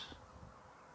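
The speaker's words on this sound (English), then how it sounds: "I can hear the birds tweeting" A single bird call rings out near the start over steady outdoor background noise, then fades into a low ambient hum.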